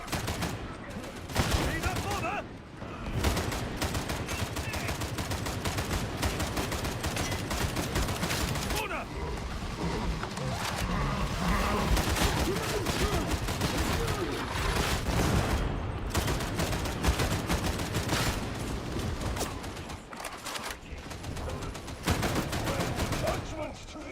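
Dense, rapid gunfire in the Darktide video game, loud bursts and sustained automatic volleys running almost nonstop with only brief gaps, mixed with game effects and occasional talk.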